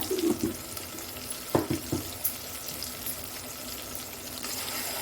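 Two glasses of water go into a hot pan of upma base, sputtering and splashing in a few short bursts before settling into a quiet, steady simmer, with no voices.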